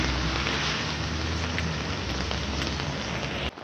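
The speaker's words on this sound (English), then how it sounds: "it's still raining" Steady, dense rain hisses continuously at close range with no voices, cutting off abruptly at the end.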